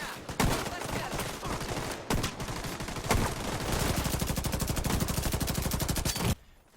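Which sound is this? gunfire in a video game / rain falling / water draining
gunfire in a video game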